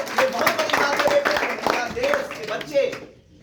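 Loud, steady clapping from many children at an outdoor yoga camp fills the space, with voices mixed in under the dense applause until it suddenly cuts off.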